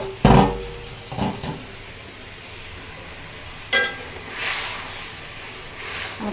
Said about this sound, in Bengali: আমার তরকারির ঝোল ফুটে গেছে।